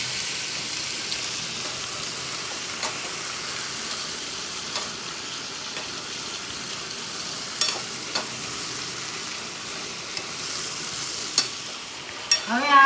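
Sliced potato chips curry cooking in a pan with salt, turmeric and cumin powder, giving a continuous low sizzle broken by a few sharp clicks of stirring against the pan.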